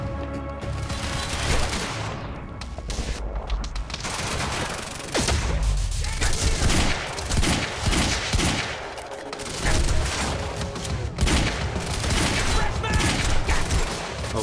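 Gunfire in Quantum Break, dense bursts of loud shots and rapid volleys going on nearly without pause, close and harsh, with a voice talking over parts of it.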